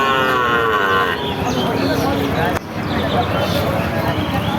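A bullock moos loudly and close, a long drawn-out low call, with chatter and crowd noise around it at a cattle market.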